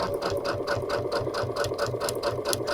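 A Brother sewing machine stitching with the MuVit foot runs at a steady pace, its needle tapping in a fast, even rhythm of close mechanical pulses with a faint whir beneath, and no talking.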